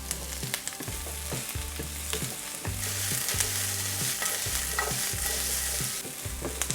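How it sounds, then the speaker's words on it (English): Onions and whole peeled garlic cloves sauté in avocado oil for tortilla soup, with a constant sizzle and a rhythmic run of spoon scrapes and stirring knocks against the pan. "Saute the onions in a couple of tablespoons of avocado oil, and you want to cook them until they become translucent."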